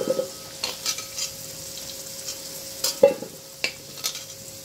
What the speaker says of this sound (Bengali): লবণটা দিয়ে আলুটা ভেজে নেব